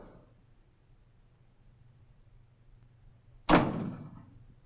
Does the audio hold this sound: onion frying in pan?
no